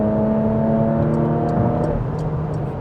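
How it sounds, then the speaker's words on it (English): A 2025 Porsche Macan GTS accelerates at half throttle, its engine a steady loud drone heard from inside the cabin, with a faint ticking near the end. "Yeah, it's a very, very quick car. Just half throttle."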